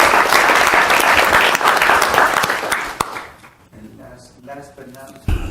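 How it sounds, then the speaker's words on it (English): Applause from an audience at a council meeting rolls for about three seconds, then trails off into scattered claps and a few murmured voices. "see if we can give him a round of applause"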